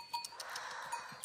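Goats bleating faintly outdoors on a hike, short distant bleats over a soft background hush with no talking.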